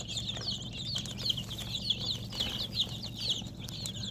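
Six-day-old Adler quail chicks peep in a busy, high-pitched chorus of rapid chirps over a low steady hum.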